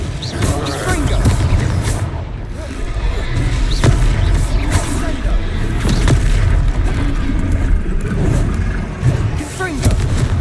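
A Confringo fire spell explodes during a Hogwarts Legacy battle, its booming blasts and thuds rolling steadily under dense game noise and voices.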